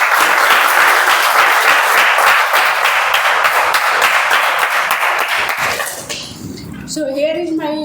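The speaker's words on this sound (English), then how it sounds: "Guys, you can give a round of applause." A round of applause at a Toastmasters club meeting: dense, loud clapping from a room of people that runs steadily, then thins out near the end as voices and a brief tonal sound come in.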